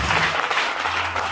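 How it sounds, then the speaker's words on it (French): A church congregation at a Sunday worship service applauds loudly, a dense, steady wash of clapping that fills the whole short burst close up. "On acclame très fort."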